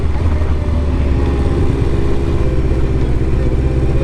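A big Yamaha XJR 1200 or Suzuki GSX 1400 motorcycle engine rumbles continuously and close by, with a deep, steady throb as the throttle is eased on and off, and no talking over it.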